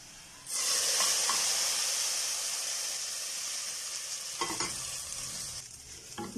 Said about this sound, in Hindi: अभी बस इसको तड़का लगाऊंगी।